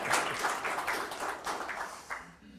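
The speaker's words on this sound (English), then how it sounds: "Yeah, you can applaud." An evening audience applauds a photonics panel as it is introduced, a moderate burst of clapping that thins out and fades toward the end.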